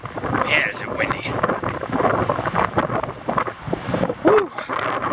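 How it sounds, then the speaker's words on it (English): Strong wind gusting across the microphone outdoors at Toquima Cave in the Nevada desert, a continuous buffeting roar that swells and dips for several seconds, with a voice briefly heard over it. "Man, is it windy."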